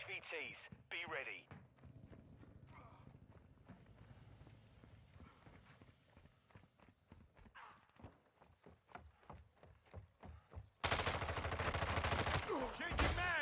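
Gunfire in the Call of Duty video game crackles in rapid bursts through a busy battle mix, ending in a loud, dense volley; radio-style voices talk over much of it.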